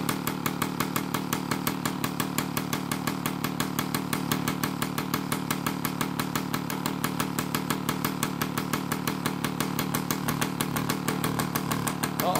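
A big-bore Yamaha PW50 dirt bike engine runs steadily with the choke on, a loud, rapid two-stroke buzz with an even pulsing rhythm close by.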